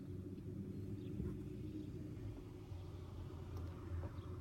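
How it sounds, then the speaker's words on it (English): Low, steady rumble inside a moving car, a soft continuous road and engine drone with slight swells and no talking. "So I'm in a car"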